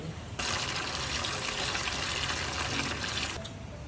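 Water pours in a steady, close gush for about three seconds, bathing small animals in a leaf-lined cage, then stops abruptly.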